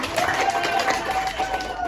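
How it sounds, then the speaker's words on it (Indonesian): Classroom applause for a student, a short burst of many children clapping together with some voices, close and fairly loud. "Tepuk tangan untuk Sandra."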